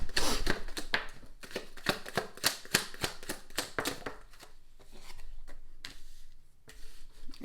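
Tarot cards are shuffled and drawn up close, producing a quick run of crisp riffling clicks that thins into softer slides and taps.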